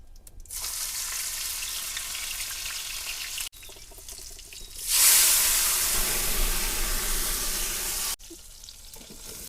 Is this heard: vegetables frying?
yes